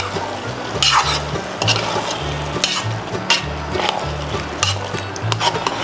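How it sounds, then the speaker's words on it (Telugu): Vegetables and curd being stirred in a pot for a Hyderabadi paneer vegetable biryani, with a steady, close scraping and sloshing stir over a faint background sizzle and occasional light clinks of a utensil against the pot. "సరి కలుపుకొని"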